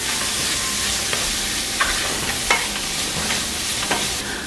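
Green chilies with turmeric and curry powder fry in a pan, a steady close sizzle broken by several distinct scrapes and clacks of a spoon stirring.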